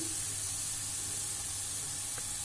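Vegetables sautéing in olive oil in a pan, a steady soft sizzle and hiss with no breaks and no voices.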